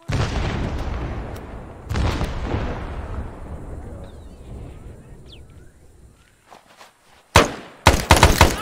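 A mortar round explodes in the game ARMA 3, a loud deep boom at the start and a second blast a couple of seconds later, each rumbling off into a long fading tail, followed by a few sharp cracks near the end.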